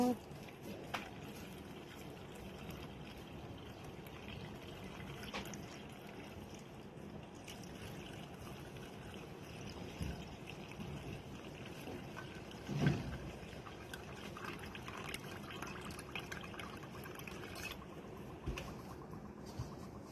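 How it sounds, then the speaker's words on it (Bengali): Water poured slowly into a pot, set up for steaming egg pudding, gives a steady soft trickle against a noisy kitchen background, with one brief louder knock partway through. "আস্তে আস্তে করে আমি এভাবে পানি দিয়ে দিব"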